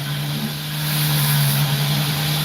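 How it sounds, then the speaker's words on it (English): A drill runs at its lowest speed setting on an opal cutting station, a steady continuous hum with a low even whine, close and alone. "The drill speed, this is at its lowest setting, so maybe it'll be, 500-600 revs."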